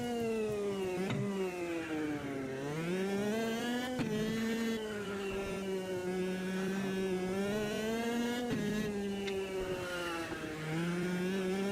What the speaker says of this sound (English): the sound of the engine's annoyed enough people